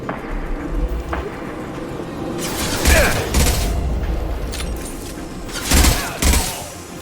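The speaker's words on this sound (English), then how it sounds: "Firing an impact shot." An impact shot fired in Mass Effect 2 Legendary Edition on Xbox Series X: heavy, booming weapon blasts land in a few loud bursts over a crackling, rain-like combat din.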